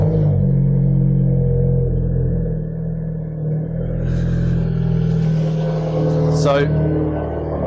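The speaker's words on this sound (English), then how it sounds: "So let's get the car turned on." An Audi/VW quattro car engine runs at a steady low rumble close by in a home garage, with a brief rise in pitch near the end; someone speaks briefly at the start.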